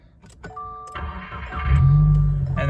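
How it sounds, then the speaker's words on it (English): A Subaru car being started, with a couple of short electronic chimes, then the starter cranking and the engine catching into a louder, steady idle close by. "and then we're gonna turn the car on."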